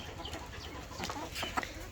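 Chickens clucking softly as they eat bottle gourd from a cooking pan on a farm, a few close, low clucks and pecking sounds scattered through a short, quiet moment.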